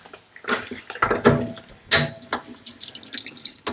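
Water running and splashing at a sink while a Japanese natural whetstone is lapped flat on a grid, irregular close bursts of flow and dripping.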